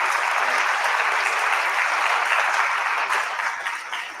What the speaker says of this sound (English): let's give up another round of applause for Ava and Barry for this great talk.